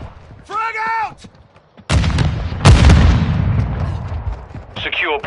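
A frag grenade explodes in Call of Duty: Modern Warfare II, a heavy close boom followed by rumbling debris, with a shouted voice before it and more voices after.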